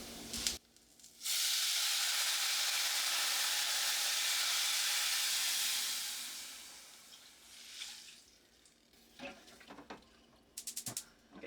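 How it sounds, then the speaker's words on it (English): Liquid hits a hot pan while cooking chicken fajitas: a loud, steady sizzle bursts out and holds for several seconds before fading, followed by a few scattered clinks and taps of cookware. "once the liquid hits that hot pan, it's going to sizzle"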